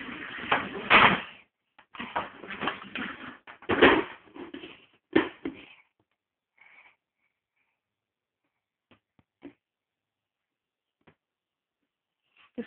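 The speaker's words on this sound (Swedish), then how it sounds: "Det är dörren." A door in a children's cartoon house knocks and clatters in several short bursts over the first six seconds, then near silence with a few faint taps.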